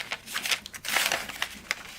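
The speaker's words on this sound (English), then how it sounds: "I'm going to fold the paper" Sheet of paper being folded, a series of close, soft crinkles and rustles in irregular bursts, quiet, with no talking.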